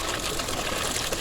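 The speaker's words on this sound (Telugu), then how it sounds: "ఈ పైన నుంచి వాటర్ ఇక్కడికి వస్తున్నాయి." Hot spring water pours down from above at a high-altitude Ladakh spring near Panamik, a steady, fairly close rushing gush with no pauses.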